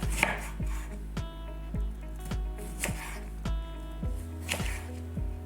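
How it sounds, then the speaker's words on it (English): A knife thinly slices a chayote on a cutting board, producing a regular run of crisp, close chops, roughly two per second. "So I'm just gonna cut it like this"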